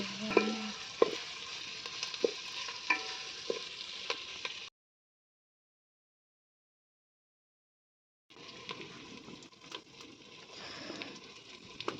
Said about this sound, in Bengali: তো পেঁয়াজটা একটু ভালোভাবে ভেজে নেব